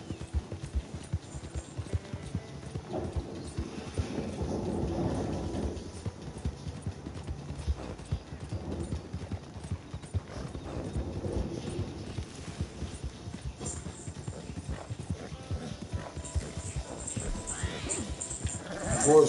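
A running horse's hooves beat in a fast, continuous clip-clop rhythm for a long stretch, close and moderately loud, with no voices.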